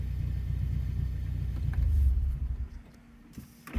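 A Ford car's engine is switched off, its low, steady idle rumble swelling briefly and then cutting out, leaving near-silence with a few faint clicks at the end.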